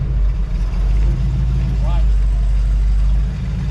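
A custom car rolls into an indoor car show in Louisville, Kentucky, its engine a loud, steady, deep low rumble that runs the whole time, with a brief faint voice partway through.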